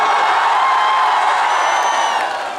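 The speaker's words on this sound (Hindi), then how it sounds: "मैंने चीखने वाली लड़कियां बहुत कम देखी, पहली बार देख रहा हूं" An audience at a Kumar Vishwas performance at HBTI Kanpur cheers, with girls screaming: a loud, sustained roar of many voices with whoops that holds steady and eases off slightly at the end.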